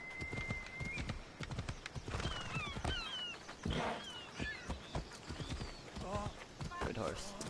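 A horse's hooves clip-clop steadily along a road in the Assassin's Creed Discovery Tour game, a quiet rhythmic trot under birdsong, with a voice talking over it at times.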